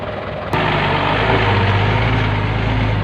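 A six-wheel dump truck hauling soil arrives with its heavy diesel engine starting abruptly after a brief moment, then holding a loud, close, steady low rumble.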